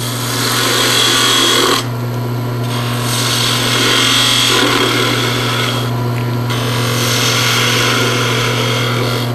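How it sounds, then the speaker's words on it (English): Wood on a lathe being shaped with a 3/8 spindle gouge close to the mandrel, a loud steady scraping rasp over a constant motor hum, with two brief breaks where the cut lifts off. "it's time to use a 3/8 spindle gouge and shape it a little bit better and a little closer to our mandrel"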